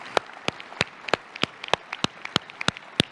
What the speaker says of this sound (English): Please, a round of applause for our all-star panelists.